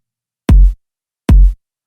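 Two punchy dubstep kick drum hits from an Ableton sample, each a short heavy thump with a bright click on top, spaced under a second apart, alone and loud.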